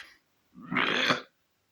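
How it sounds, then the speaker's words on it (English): One short, fairly soft belch from a person stands alone in the quiet, a rough guttural burst lasting under a second. "I belched."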